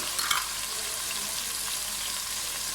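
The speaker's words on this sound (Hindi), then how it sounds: "के साथ ही मैं इसमें टमाटर डाल रही हूँ, अदरक लहसुन का पेस्ट 1 टेबलस्पून" Tomatoes and ginger-garlic paste fry in a pan over browned onions, giving a steady, moderate sizzle with a brief clatter of stirring near the start and no talking.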